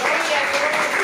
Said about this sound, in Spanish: Vamos a darle una fuerte aplauso al Señor.